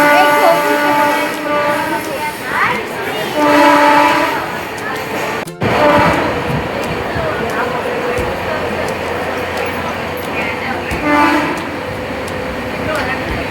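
A passenger train running, its steady rumble and rattle filling the background while people talk over it, with a brief sharp break midway before the low rolling noise continues.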